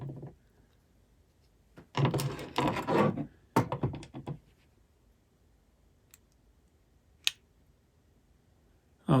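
Small screws being backed out of the motor of a Kenwood KX-880G tape deck that is unresponsive and nearly dead: close, dry scraping and clicking in two short bursts, then isolated ticks separated by quiet gaps.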